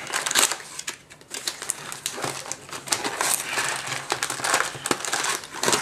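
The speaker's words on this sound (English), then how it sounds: "Now just rip this open." A Cardfight Vanguard booster pack wrapper being ripped open, giving close crinkling and tearing foil noises in quick irregular bursts, fairly quiet overall.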